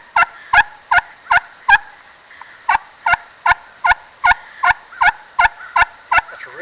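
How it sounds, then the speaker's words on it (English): A turkey call sounds in a series of about fifteen sharp, evenly spaced yelps, loud and close, moving from a high-pitched young-turkey tone down to an older hen's lower call, with a short pause midway. "Real high pitch young turkey, and medium all the way back down to old"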